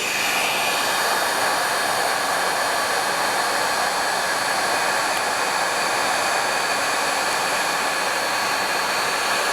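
A crafting heat tool blowing hot air to melt embossing powder, producing a steady, loud, close hiss and whoosh like a small hair dryer that continues without a break.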